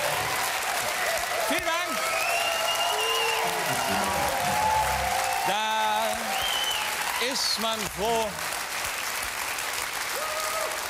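A television studio audience at a late-night comedy show applauds loudly and continuously, with the host speaking briefly over the clapping.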